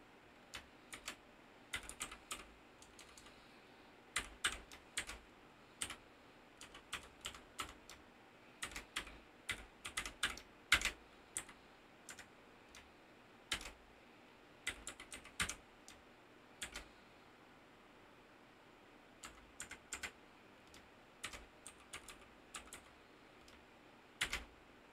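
Computer keyboard typing while an Apache config file is edited on Debian 11 Linux, irregular close clicks and short bursts of keystrokes continuing throughout with pauses, and no speech.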